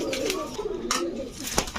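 Large pigeons at a breeder's loft coo in soft, rolling calls, close by and repeated over a faint background murmur.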